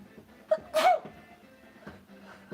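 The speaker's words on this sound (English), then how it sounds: "Enough sneezing." A single sharp human sneeze bursts out near the start, loud and close, followed by quieter rustling and faint household sounds.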